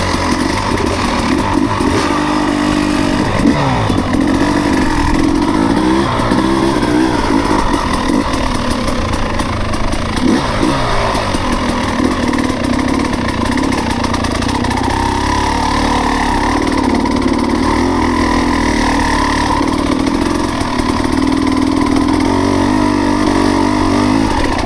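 Motorcycles climb a hill trail together, engines droning steadily and loudly throughout with shifting revs as the bikes labor uphill, no talking.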